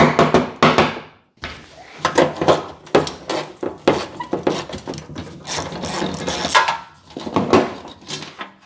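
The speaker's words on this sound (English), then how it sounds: "when the nut is becoming unthreaded from that fastener" A ratchet unthreads a nut from a trim fastener on a 1962 Cadillac Series 60 Fleetwood fender skirt. It gives close, sharp bursts of rapid clicking separated by short pauses.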